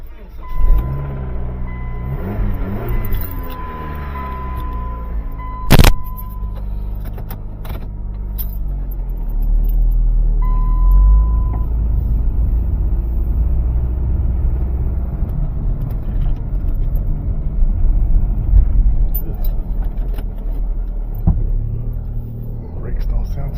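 A worn Dodge Journey rumbles low as its engine is cranked and then settles into a steady idle. Beeps come from the car, and occasional voices can be heard nearby.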